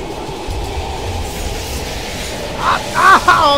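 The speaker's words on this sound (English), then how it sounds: "We can use the train to slip past." A train rumbles past in the video game Call of Duty Black Ops Cold War at an abandoned station, a steady loud roar and clatter that ends in sharp, high wheel squeals.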